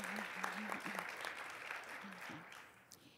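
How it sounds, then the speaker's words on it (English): Applause for volunteers at an American Legion Auxiliary convention session, a faint and distant patter of clapping in a hall, with a voice speaking over part of it. "let's give them a round of applause, too"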